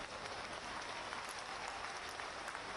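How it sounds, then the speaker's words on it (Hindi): Steady crowd applause fills a Jan Ashirwad Yatra political rally in Khandwa, a dense, even wash of many hands clapping at a distance, quite faint, with no voices rising above it. "तो इस पे तो जोर से ताली बजाओ ना।"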